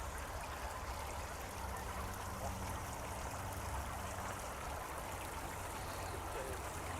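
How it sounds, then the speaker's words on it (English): Water trickles steadily in a garden water feature at the Auckland Botanic Gardens, a close, continuous splashing wash that holds even throughout with no breaks. "here's this water feature which is fantastic"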